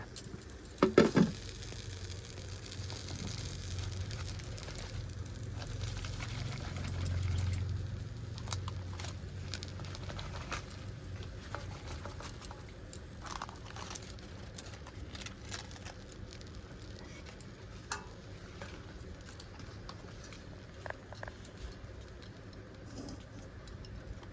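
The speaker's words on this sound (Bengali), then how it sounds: "আবার আমি কড়াইতে দিয়ে দেবো, এক পিঠ হয়ে গেছে, এবার আর এক পিঠ এই উল্টিয়ে দিলাম" Tengra fish wrapped in a leaf parcel sizzles and fries in a wok, with a steady low crackle throughout and a few brief clatters as the parcel is flipped near the start.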